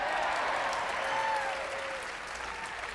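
Audience applause at a folk concert in New York City, a dense steady wash of clapping from a large crowd, loud and continuous throughout with a few faint cheers.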